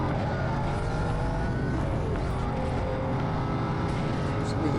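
Supercharged 5-litre-class V8 in Need for Speed Most Wanted (2005), a steady, loud engine roar held without a break and thick with low rumble, while a voice talks over it.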